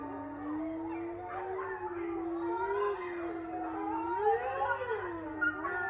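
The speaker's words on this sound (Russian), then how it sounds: "У нас тут хоровое пение наших волков, валендов, лаек." Wolves and laika dogs howl together in a sustained chorus at night, long wavering tones rising and falling and overlapping, with one deep bass voice among them, steady and moderately loud throughout.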